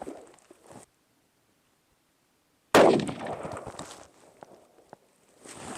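A single sharp 7mm PRC rifle shot cracks loudly and close after a stretch of near silence, followed by a decaying rumble and faint shuffling sounds.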